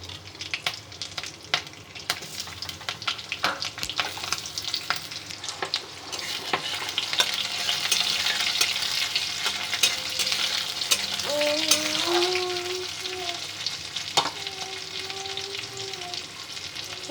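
Nigella seeds and chopped green chilies sputter and sizzle in hot oil while being stirred, a busy, continuous crackle that grows louder midway, with no talking.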